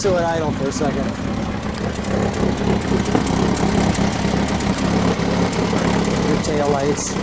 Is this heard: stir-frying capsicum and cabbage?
no